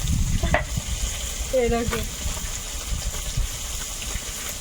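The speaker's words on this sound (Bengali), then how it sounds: "সব মাছগুলো ভাজা হয়ে গেছে" Koi fish (climbing perch) fries in a pan with a continuous sizzling hiss, broken by a couple of brief scraping stirs.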